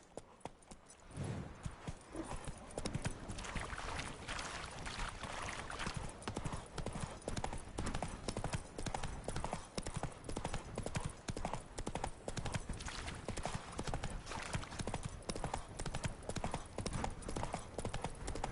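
Rhythmic hooves clip-clop steadily at a trot throughout in The Witcher 3: Wild Hunt, crisp and close, with a faint voice speaking briefly near the start.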